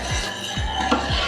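A spoon scrapes and clinks against a pot while stirring thick British Indian restaurant-style curry base gravy, with a few quick strokes and soft wet sloshing, close and fairly quiet.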